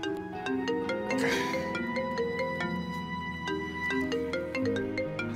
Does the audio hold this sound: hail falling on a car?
no